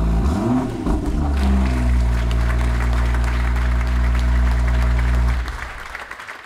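A BMW M2 engine roars loudly at a steady high idle, a low rumbling drone that swells briefly, then drops off near the end.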